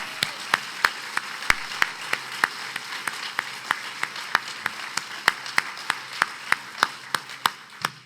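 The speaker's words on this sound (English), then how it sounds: "Let's have a huge round of applause for our new family." Audience at a school district convocation claps in steady, evenly spaced unison to welcome new employees, with sharp distinct claps about three per second throughout and no talking.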